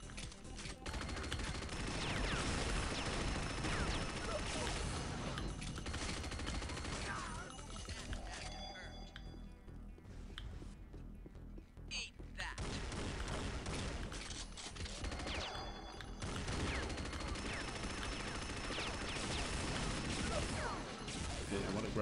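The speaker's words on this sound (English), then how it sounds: "Okay, let's grab some minigun kills." Sustained, dense minigun fire from Unreal Tournament 99 in a bot deathmatch on DM-Agony, loud rapid bursts rattling almost continuously, with short breaks around the middle and a crash or two mixed in.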